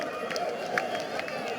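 A stadium crowd surges onto the field as Bangladesh win a cricket match against New Zealand, a steady, dense roar of voices and movement with sharper cheers rising now and then.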